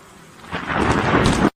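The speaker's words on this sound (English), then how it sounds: "this plane was struck by lightning when flying over Finland" Thunder from a lightning strike on an airplane in flight over Finland: a deep, rumbling roar builds and swells with a crackling rush of noise, then cuts off abruptly; no voices.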